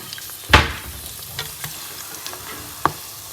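Food sizzles in a hot pan with a constant crackling hiss, broken by a couple of sharp scrapes from stirring.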